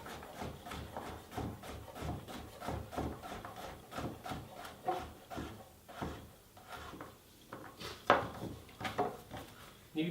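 Knife slicing through a red pepper and a courgette on a board in a home kitchen, a steady run of close, crisp chopping taps with a few louder knocks near the end.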